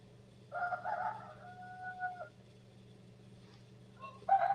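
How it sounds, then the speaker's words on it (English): Roosters crow in the distance at night, one long cock-a-doodle-doo answered by another, a short call following, all faint over a low steady hum with no talking. "Your roosters are up? They don't sleep either?"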